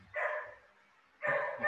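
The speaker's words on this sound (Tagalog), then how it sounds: "ang ingay ng aso" Two bursts of dog barking, each lasting about half a second, separated by a pause; fairly loud and close, with no talking.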